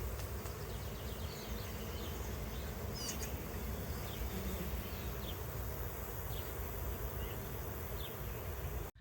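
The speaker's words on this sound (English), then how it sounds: "there were so many different bees and butterflies buzzing in these trees that it was so loud" Bees and butterflies swarm through flowering trees in a park, their buzzing a dense, steady drone that fills the air at loud volume, with faint bird chirps scattered above it.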